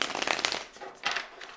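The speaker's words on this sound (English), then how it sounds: "Just do a bit of shuffling." Tarot cards are shuffled by hand in two quick bursts of riffling and slapping, close and crisp, with a short pause between them and no talking.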